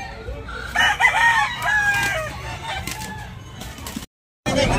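A nine-month-old Yellow Leg Maclean Hatch gamecock rooster crows close by, a long, wavering call over outdoor background noise at a rooster farm in Tabunok, followed by a brief cutoff before the noise resumes.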